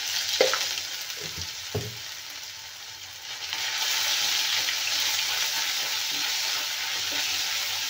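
Cumin, asafoetida and ginger-garlic paste sautéing in a pan, with a few stirring knocks early on, then a loud steady sizzle that swells and holds to the end.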